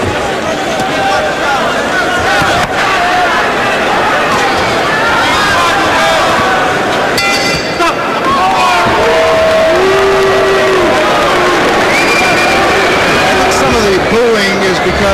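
A dense crowd at a boxing match between Stephane Ouellet and Tyler Hughes roars and boos in a loud, continuous wash of voices, with a commentator talking over the noise throughout.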